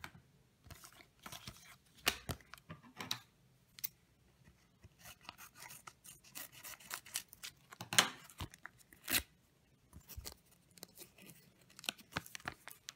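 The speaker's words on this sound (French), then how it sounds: "maintenant, on va ouvrir les 3 paquets de stickers." World Cup 2018 sticker packets are torn open and handled, giving quiet, close crinkling and ripping paper sounds in irregular bursts, with no talking.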